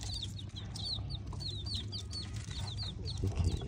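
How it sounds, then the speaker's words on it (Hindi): A desi chicken, a native breed, gives a quick run of short high peeps and clucks over a steady low hum, fairly close by, with no talking. "ये देसी मुर्गा"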